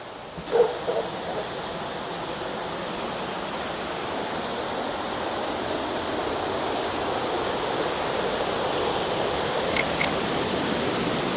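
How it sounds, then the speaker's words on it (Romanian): A waterfall in the Aosta Valley mountains gives a steady, dense roar of falling water that holds evenly throughout, close and loud, with a brief faint sound near the start. "Și aceasta este cascada."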